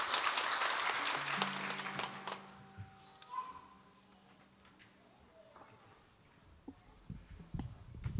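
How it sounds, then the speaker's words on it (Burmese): An audience breaks into a burst of applause that is loud at first and then fades after a couple of seconds. Quieter scattered sounds and faint voices follow, with a few claps returning near the end. "လက်ခုပ်တီးပြီးတော့ကြိုဆိုပေးပါ"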